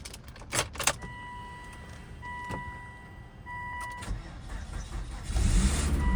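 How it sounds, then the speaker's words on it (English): A Volvo S60R, suspected of a boost leak, has its engine cranked without catching: clicks and a whirring, then starter cranking rising near the end, with electronic warning chimes, close by. "This thing does not want to start"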